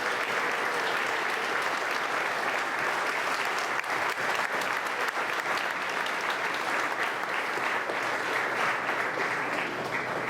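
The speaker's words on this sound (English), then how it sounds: "Let's give a warm round of applause here as well" A warm round of applause at a lodge centennial celebration program, steady dense clapping from a large seated audience sustained evenly for the full stretch, loud and close with no voices over it.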